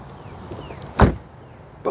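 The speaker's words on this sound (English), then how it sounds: "let's listen to the sound of the closing door" A car door with a Bang & Olufsen-equipped door panel shuts with one solid, close thud in an otherwise quiet setting, followed by the start of another sound at the very end.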